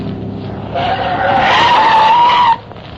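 Car tires skid and squeal through a hard turn in a radio-drama chase, a loud rising screech lasting about two seconds under engine noise, then cutting off abruptly.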